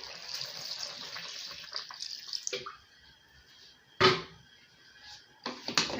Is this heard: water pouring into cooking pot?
yes